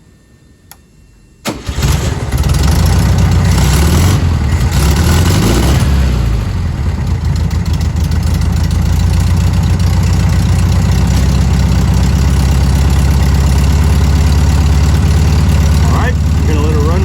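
Air-cooled VW Bug engine cranks briefly, then catches and settles into a loud, steady idle that runs on for the rest of the clip, with some faint talk near the start.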